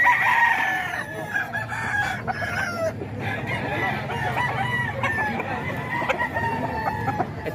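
Several roosters crow and cluck at a cockfighting gathering in Bocaue, overlapping calls near and far over a murmuring crowd with scattered voices.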